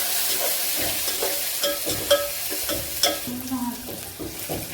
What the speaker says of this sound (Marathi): कोथिंबीर चांगली परतून घ्यायची.